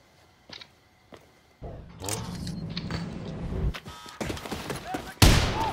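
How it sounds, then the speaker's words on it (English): A loud blast goes off in Wolfenstein II combat, a heavy burst of noise that rumbles and crackles for a couple of seconds, with scattered gunfire clicks before it and a sharp final crack near the end. "that was a nice explosion there"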